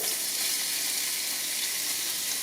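Onion, chilies and garlic frying in olive oil, a brief steady hiss of sizzling, close and even, with no talk.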